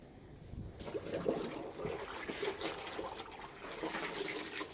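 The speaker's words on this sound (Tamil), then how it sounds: "இந்த காட்டன் பெட்ஷீட்டை நம்ம இந்த தண்ணிக்குள்ளே இந்த மாதிரி முக்கி நம்ம எடுத்துக்கலாம்" A cotton bedsheet is dipped into a container of water, giving soft splashing and trickling that runs steadily and close throughout, with no speech.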